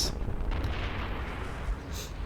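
A fuel depot explodes under weapon fire in the EVE Online space game, a dense, sustained rumbling boom that fills the whole stretch at steady loudness with a faint higher crackle near the end.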